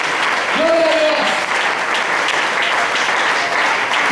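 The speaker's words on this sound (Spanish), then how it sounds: "Aplaudan, hermano, a Él." A Sunday school congregation at an IPUC church in Aguas Blancas, Colombia claps loudly and steadily, a dense, even wash of applause after a short sung or shouted note near the start.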